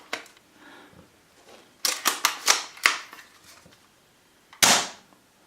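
Tokyo Marui M40A5 airsoft sniper rifle firing: a run of sharp, close, dry snapping cracks in a quick irregular cluster, then a louder single crack after a pause, over quiet room tone with no talk.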